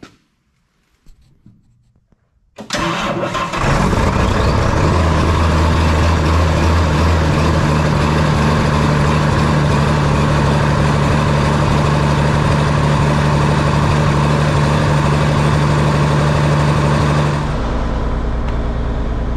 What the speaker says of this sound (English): let's see if we can get this tractor to fire up